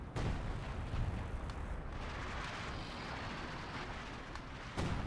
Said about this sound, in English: Oh, incendiary and concentration barrage?